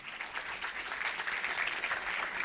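Conference audience applauding to welcome a speaker on stage, an even, steady round of clapping heard alone at moderate volume throughout.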